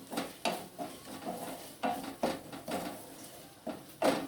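Garlic and ginger stir-fried in a pan for a potato curry, a spoon scraping and knocking against the metal in repeated strokes over a faint sizzle, with no talk.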